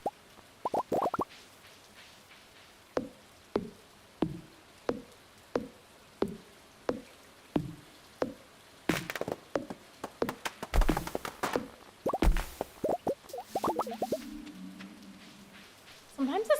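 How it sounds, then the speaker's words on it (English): Soft rain effects in the video game Stardew Valley sound as a series of quiet, evenly spaced plops and taps, joined near the middle by brief bursts of game noise. "Sometimes the sound effects in the game whenever it's raining, like what I just heard, it might have been kind of quiet for you guys"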